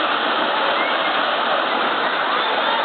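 David's waterfall at En Gedi, water pouring from a small cave into a pool in the desert oasis, a loud continuous close-up rushing hiss with no change in intensity.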